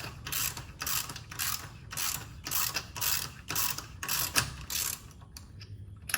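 A lug wrench loosening lug nuts while a spare tire is changed, making a steady run of close mechanical ratcheting clicks in repeated bursts of roughly half a second, alone over a low background hum.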